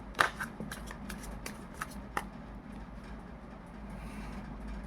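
Tarot cards being shuffled by hand, with a run of crisp riffling snaps and flicks close by, loudest at the start and then easing into a steady low rustle, over a faint background hum.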